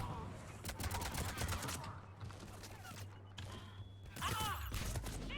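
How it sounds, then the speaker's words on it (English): Gunfire from all directions in a Mass Effect 3 firefight, with dense bursts of shots running throughout alongside game effects and a low rumble, and a voice speaking over the shooting. "Where am I being shot from?"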